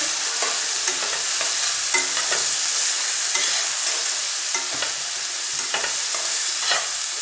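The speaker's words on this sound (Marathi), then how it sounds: "हिरवी मिरचीचा ठेचा चांगला भाजू द्यायचा असं व्यवस्थित मिक्स करून घ्यायचं" Green chili thecha roasts in a pan with a constant bright sizzle, while a spatula stirs and scrapes in a rapid, uneven rhythm close up.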